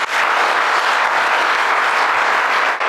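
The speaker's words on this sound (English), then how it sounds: "Applause." A dense crowd at a political rally in Venezuela applauds loudly and steadily, a continuous wash of many hands clapping that holds for a few seconds before cutting off.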